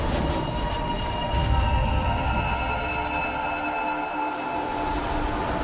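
A train in the video game Deus Ex Mankind Divided gives a steady, loud rumble with a sustained metallic whine. It drones on continuously and slowly fades slightly.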